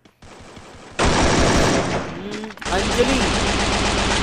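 Rapid automatic gunfire in a mobile battle game guild war bursts out loud and close in dense, sustained volleys, with a brief lull in the middle, while excited commentary carries on over the shooting.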